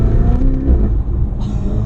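Ferrari 488 Spider engine under load with a quick throttle blip on a gearshift, loud and close, a brief roar that dips and picks up again.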